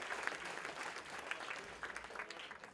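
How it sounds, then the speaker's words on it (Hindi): An audience at a prize distribution function applauds a winner with a soft, distant wash of clapping that holds steady for a few seconds and then slowly thins out. "जोरदार तालियों से इनकी हौसला अफजाई करिए"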